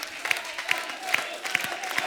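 A studio audience on The Kapil Sharma Show claps steadily; faint, dense applause carries a regular pulse of sharper hand claps roughly every 0.4 seconds.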